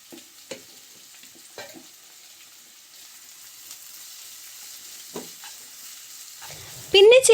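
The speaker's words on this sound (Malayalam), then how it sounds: "ചട്ടിയിലേക്ക് കുറച്ച് വെളിച്ചെണ്ണ ഒഴിച്ചു കൊടുത്തിട്ട് അതിലേക്ക് സവാള, പച്ചമുളക്, ഇഞ്ചി, കുറച്ച് വേപ്പില എല്ലാം കൂടി ഇട്ട് നല്ലോണം നമുക്ക് വഴറ്റിയെടുക്കാം" Onion, green chilli, ginger and curry leaves sautéing in coconut oil in a pan, with a steady faint sizzle under several sharp stirring knocks, then a louder clatter at the very end.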